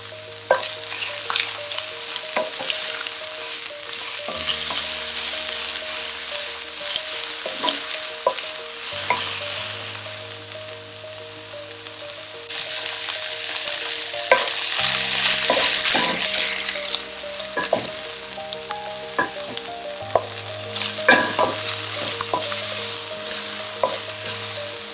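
Canned salmon frying in a pan, a continuous sizzle with periodic scraping and clinking as a utensil stirs it, close and fairly loud, with no talking.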